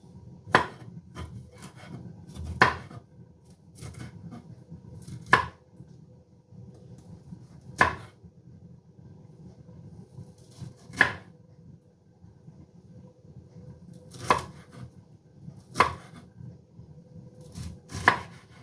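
Knife chopping broccoli on a cutting board while preparing a green sauce of broccoli, peas and asparagus for salmon: sharp, distinct knife strikes at an irregular, unhurried pace over a low steady background hum, no talking.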